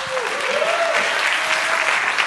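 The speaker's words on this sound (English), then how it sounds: "A round of applause for Julia, please." An audience at a magic show applauds a volunteer named Julia, a steady wash of clapping from a crowd with a brief whistle-like tone riding over it.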